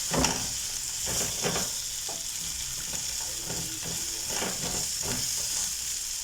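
Noodles being stirred and tossed in a frying pan, with a steady hiss of sizzling oil and repeated soft scraping strokes at an uneven rhythm, close by and moderately loud with no talking.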